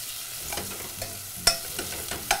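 Onion with kosher salt being gently stirred in a pan, a soft background sizzle broken by light utensil scrapes and taps, with one sharper click partway through.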